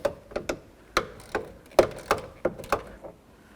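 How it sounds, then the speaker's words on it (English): A series of sharp metallic clicks and ticks, irregularly spaced, like a ratchet wrench turning 10mm side mirror mounting nuts loose on a Chevy C/K truck, close and fairly quiet. "Let's start removing those 10mm headed nuts."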